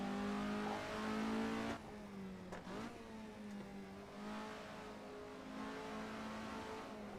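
A six- or twelve-cylinder car revs hard on a Nurburgring track day, its steady, loud engine drone broken by a sharp gear change partway through before the pitch climbs again.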